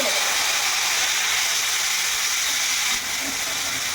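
Ground spice paste fries in hot oil with cinnamon and split dried red chillies, giving a steady, loud, broadband sizzle and hiss that holds evenly throughout with no talk over it.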